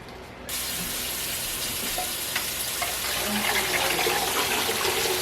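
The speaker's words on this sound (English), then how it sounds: "let me get the water put in here" A steady rush of water gushes from a tap into a canning pot, a broad, close hiss that continues without a pause, with a faint voice underneath.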